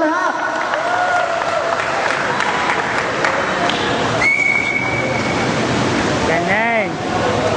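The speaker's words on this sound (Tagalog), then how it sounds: "Palakpak po tayo dyan lahat." Crowd applause fills a basketball league opening day in the Philippines, a continuous wash of clapping with whistles and an amplified voice over it, and a rising-falling tone near the end.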